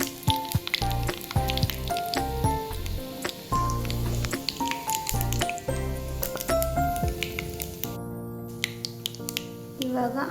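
Mustard seeds, cumin and chillies crackle and pop in hot oil, with dense close sputters and drips continuing throughout over a melodic background and some voice.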